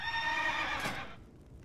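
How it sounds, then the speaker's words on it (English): A paladin's horse mount in World of Warcraft gives one loud, close whinny that fades out quickly at the end. "My horse Winnie's cooler than yours"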